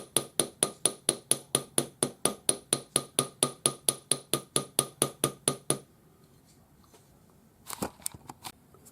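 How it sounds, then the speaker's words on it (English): Rapid, even hammer blows strike a metal strip being shaped into an anticlastic spiral pendant, about twenty sharp ringing hits in a steady rhythm, then a few scattered clinks and handling noises after a pause. "you just watch as you hammer, and you can see if you've missed a spot, go back and hammer it"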